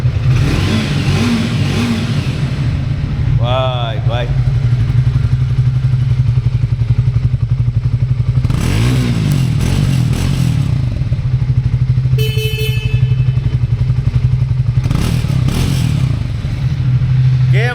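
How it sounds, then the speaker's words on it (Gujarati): A car engine drones steadily up close, swelling in a few revving surges, while a man briefly calls out over it. "પણ ગાડીનો અવાજ વધારે સંભળાશે"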